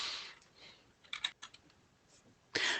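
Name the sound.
typing notes on a computer keyboard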